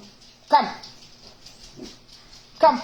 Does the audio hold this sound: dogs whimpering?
yes